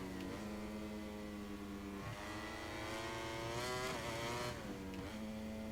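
Motorcycle engine revving under throttle in MotoGP 22: a high, buzzing engine note that climbs and drops between gear changes, steady and loud throughout.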